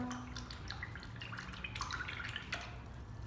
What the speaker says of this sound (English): you can wash your brush out